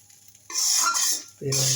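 A spoon scrapes and clatters through chicken noodles and spice mix in a pan, two close, loud bursts of stirring separated by a brief pause, with faint sizzling underneath.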